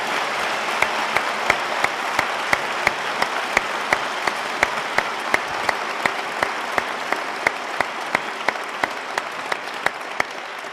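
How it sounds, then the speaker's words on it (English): Sustained audience applause for two debaters at an atheism-versus-religion debate, a dense steady wash of clapping lasting throughout with sharp regular clicks punctuating it. "A round of applause for both gentlemen"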